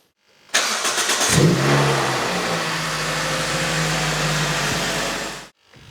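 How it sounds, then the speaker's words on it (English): A 2005 Toyota Celica GT with the VVTL-i engine cranks briefly and catches, then settles into a steady, fairly loud running idle close by for several seconds before cutting off, with no talking. "So like I said, start it up for 10 seconds and let it run now."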